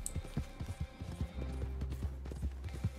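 Horse hooves clip-clop steadily in a video game, with a brief whinny from the mount close by and some music or game noise underneath.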